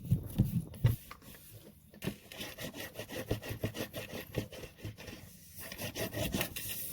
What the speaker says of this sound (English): And you want to burnish this really well.